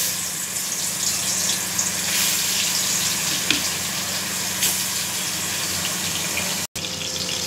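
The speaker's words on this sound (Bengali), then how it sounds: "কটা মাছ ভেজে নিচ্ছি" Fish frying in hot oil makes a constant dense hiss throughout, with a couple of faint ticks and a sudden brief dropout near the end.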